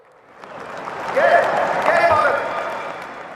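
An audience at a political speech breaks into applause, clapping swelling from quiet to a full, sustained burst before easing off.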